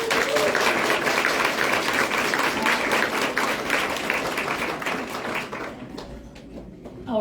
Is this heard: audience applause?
yes